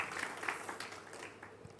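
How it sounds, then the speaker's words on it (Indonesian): Church congregation at a Good Friday service applauding, a soft, distant wash of many clapping hands lasting under two seconds. "kasih tepuk tangan buat Tuhan kita Yesus Kristus"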